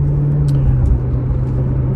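A Corvette Z06 with 650 horsepower holds a steady, close, deep engine drone and road rumble while cruising, with no revving.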